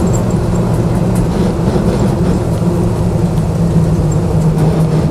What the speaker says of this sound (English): But obviously sounds brilliant being a V8.